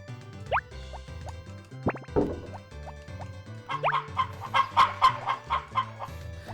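Chickens cluck in the Harvest Moon: Back to Nature farming video game, with sparse game plinks and chimes first, then a run of rhythmic, layered clucks from several birds growing loud near the end.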